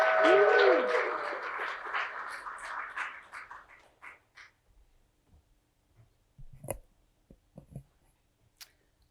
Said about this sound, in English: if everyone wants to give a round of applause for Alder for coming up and performing